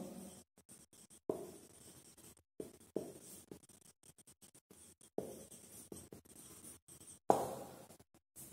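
A teacher writes on a classroom board in quiet, intermittent scratchy strokes of chalk or marker, with brief pauses between bursts and no talking.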